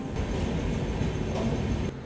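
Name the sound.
Karnataka Express train arriving at Guntakal railway station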